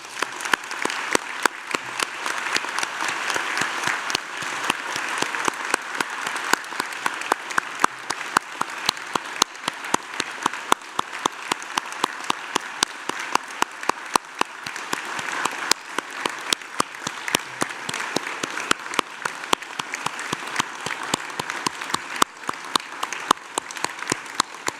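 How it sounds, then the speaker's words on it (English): A large audience applauds graduates at the close of a University of Newcastle graduation ceremony in Australia, a dense, sustained wash of clapping with sharp individual claps standing out throughout. "join me once again in applauding their wonderful achievements"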